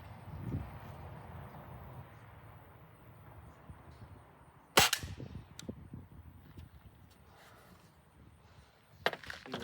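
A Beeman 1022 dual-caliber air rifle fires a pellet with one sharp, loud crack midway, after a quiet stretch of outdoor background noise, and a second fainter snap follows near the end.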